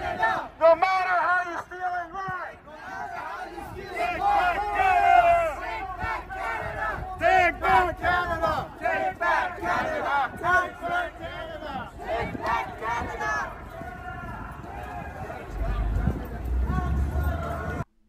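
Large crowd at the Take Back Canada march in Toronto, many voices chanting in loud rhythmic unison with shouts and cheers, sustained throughout with crowd rumble.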